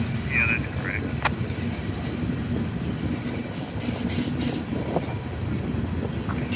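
BNSF locomotive 3675 passes on the rails with a continuous low rumble and rolling wheel noise, plus a few brief squeals and clanks, all heard close and loud.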